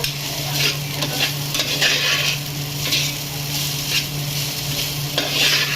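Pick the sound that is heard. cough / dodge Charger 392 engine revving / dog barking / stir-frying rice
stir-frying rice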